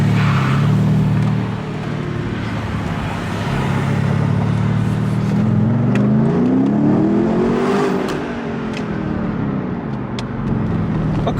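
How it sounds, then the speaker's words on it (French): Car engine revving loud and near as the driver downshifts with paddle shifters, pitch sweeping up and down continuously; distinct exhaust pops are not evident. "quand tu mets des coups de palette pour rétrograder, ça fait le... Pop and Purse?"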